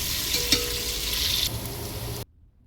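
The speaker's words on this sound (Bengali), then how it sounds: "পেঁয়াজ কুচি দিয়ে সামান্য নেড়ে চেড়ে এটাকে ভেজে নেব" Chopped onions sizzle and crackle loudly in a pan for a beef shank pulao, with a brief stirring knock early on, before the sound cuts off abruptly near the end.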